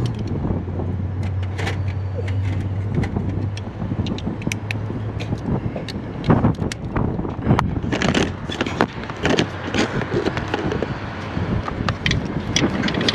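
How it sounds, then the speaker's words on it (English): Strong wind blowing outdoors beside a 6.7 Cummins diesel truck, rushing and buffeting the microphone steadily throughout, with irregular gusty thumps and a faint low rumble underneath, no talking. "Wind is getting crazy."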